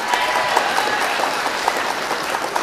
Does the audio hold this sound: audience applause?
yes